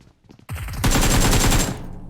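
Rapid automatic gunfire in PUBG Mobile bursts out loud and close, a dense rattling stream of shots lasting about a second before tailing off.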